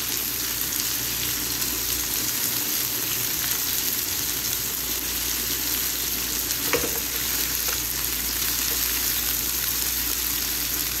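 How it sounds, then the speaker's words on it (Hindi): Boiled mutton pieces shallow frying in a pan for a mutton Afghani recipe, a constant dense sizzle and crackle with a brief stir clank, no talking. "इनको मैं थोड़ी देर ही फ्राई करूँगी क्योंकि ऑलरेडी ये बॉयल हुई हुई हैं।"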